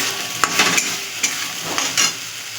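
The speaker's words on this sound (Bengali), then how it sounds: "দিয়ে 1-2 মিনিটের মতন আমি একটু নাড়াচাড়া দেবো।" Paneer is stirred with grated coconut and sugar in a pan, giving soft scraping strokes and a light sizzle in a few uneven bursts over a quiet frying hiss.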